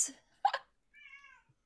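A cat gives a short, faint meow near the end, after brief human sounds, in an otherwise quiet room.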